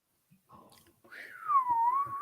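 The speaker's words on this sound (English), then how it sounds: "The wind is whistling up here." A thin, high whistle rises and wavers for about a second, fairly faint, following a few soft scattered noises.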